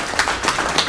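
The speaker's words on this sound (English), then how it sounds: "let's give him a round of applause" A small audience at a neighborhood association meeting claps briefly after an introduction, scattered hand claps at a steady, loose rhythm, moderately close and fairly quiet for about a second.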